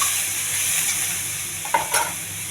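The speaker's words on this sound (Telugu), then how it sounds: "కొన్ని ఆవాలు, కొద్ది కరివేపాకు, ఉల్లిపాయలు దోరగా వేగించుకోండి." Mustard seeds, curry leaves and onions fry in a pan with a continuous bright sizzle, broken near the end by a couple of quick stirring scrapes, close and with no talking.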